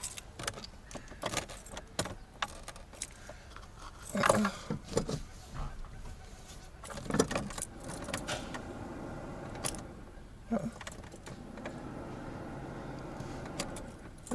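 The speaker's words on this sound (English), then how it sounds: "Okay, so let's switch on the ignition." Key jangling and turning in the ignition of a Peugeot 505 V6, with small creaks and mechanical clicks spread over a quiet stretch and a few louder clunks partway through.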